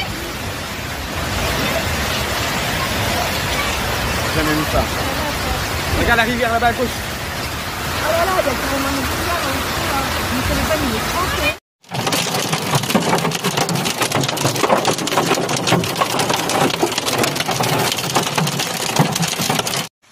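Heavy hail and rain pouring onto flooded Paris streets during a hailstorm, a dense, steady wash of hits that runs unbroken. A person speaks over it, and it cuts out briefly before resuming just as loud.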